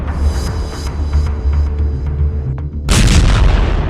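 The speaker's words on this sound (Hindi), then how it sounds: "देर रात खार्किव में जोरदार धमाका हुआ।" A loud, deep explosion from a late-night bombing in Kharkiv booms out, a heavy low rumble with sharp cracks, then a second powerful blast bursts in near the end.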